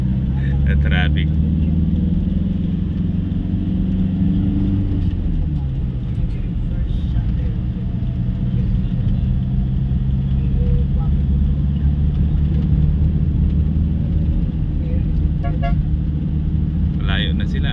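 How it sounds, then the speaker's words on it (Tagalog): Heavy road traffic in the town of Legazpi near Mayon: a loud, continuous rumble of passing cars and engines, with short horn-like bursts near the start and again at the end. "Traffic."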